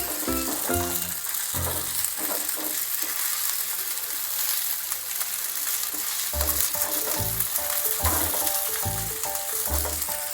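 Fish frying in hot oil in a pan gives a steady, close sizzle that continues without a break, with the dull knocks of the pieces being stirred and turned. No one speaks.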